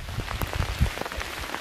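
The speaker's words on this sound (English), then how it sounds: "we are now in rain" Rain patters steadily on the Appalachian Trail, a dense wash of drops tapping surfaces nearby with scattered louder hits and no voices.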